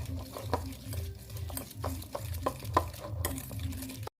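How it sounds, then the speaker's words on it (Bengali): A spoon stirring oil and sugar together in a bowl, producing rhythmic scraping swirls with light clinks against the bowl, close and steady, alone without talk. "এগুলো একটু ভালো করে একটু ঘুরিয়ে নেব।"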